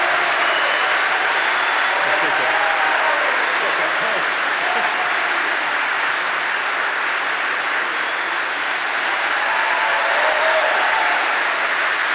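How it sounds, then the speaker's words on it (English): Sustained applause from a large audience at a 2022 University of Pittsburgh white coat ceremony, dense clapping filling the whole stretch at an even, loud level without pause. "Please join me in another round of applause for Mr. Fandry and Ms. Risinger"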